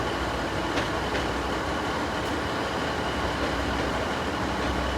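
A Northern class 156 diesel train at Sheffield station gives off a loud, steady rumble of engine and wheels with a few faint clicks over the top.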